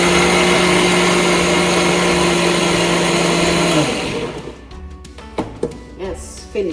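A kitchen mixer grinder blends onion and garlic into paste, a loud steady whirring drone that winds down and stops near the four-second mark, followed by a few clinks and handling knocks.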